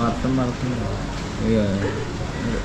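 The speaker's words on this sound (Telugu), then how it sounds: "ఇంకా వర్షం పడుతూనే ఉంది" Rain keeps falling in Goa as a steady wash of background noise, heard under voices talking nearby throughout.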